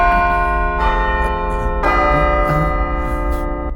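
A church bell tolls at midnight in a dubbed Malayalam horror thriller, several resonant, ringing strokes about a second apart, each decaying slowly over a low background hum.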